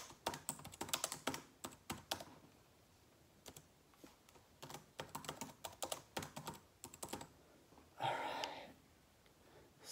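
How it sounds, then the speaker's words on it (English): Fast typing on a computer keyboard, close and clear, with bursts of crisp key clicks separated by short pauses and a soft breath or sigh near the end. "he's typing"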